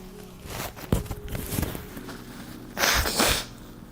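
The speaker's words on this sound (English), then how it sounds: "Let me just blow my nose." A short, breathy nose blow with a burst of hissing air near the end, preceded by soft rustling and handling noises.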